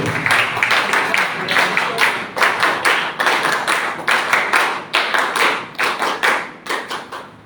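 An audience claps for a guest speaker at a public health social agenda gathering, a dense, steady patter of many hands in rhythmic surges that swell and ease over several seconds, with no voices above it.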